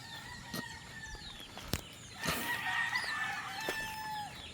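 A flock of chickens clucks softly at a backyard poultry range while a rooster crows, faint and somewhat distant, with a few sharp clucks.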